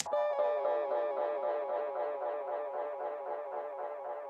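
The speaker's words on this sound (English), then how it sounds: "Then I got this guitar one shot." A single sustained guitar note from a one-shot sample rings out with rhythmic, pulsing echo repeats that slowly fade, heard alone with no talking.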